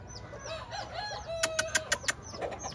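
A year-and-a-half-old Pennyhatch gamefowl stag kept for breeding gives short clucks and throaty calls close by, with a quick run of five sharp, evenly spaced bursts in the middle and no talking.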